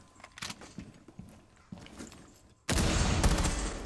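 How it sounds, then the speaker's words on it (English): Gunfire from Rainbow Six Siege as cameras get shot out: scattered sharp shots early on, then a sudden loud, dense sustained burst of shooting filling the final second. "I'm shooting out all the cameras saying bitch"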